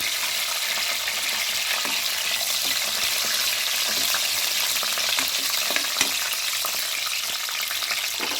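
Cashews frying in hot oil in a pan for vegetable pulao, giving a steady, close crackling sizzle with faint stirring scrapes throughout and no talking.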